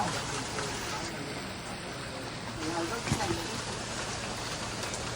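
Steady hiss of rain falling, fairly continuous and moderately loud, with faint voices and a brief knock partway through.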